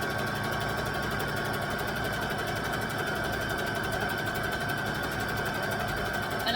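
A sewing machine runs continuously while stitching the hem of Christmas shorts, a loud, close, steady rapid mechanical chatter with a constant hum and no pauses.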